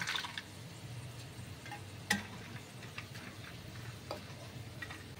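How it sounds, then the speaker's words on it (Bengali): Cashew nuts frying in oil in a wok make a quiet, steady bubbling sizzle, close by, with an occasional sharp clink or stir, including one louder tap midway. "এবার আমি কিছুটা কাজু বাদাম ভেজে নিচ্ছি"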